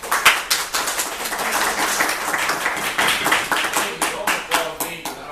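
Audience applause at a Tampa community redevelopment meeting, with dense clapping that carries steadily through the whole stretch and a few sharper claps standing out.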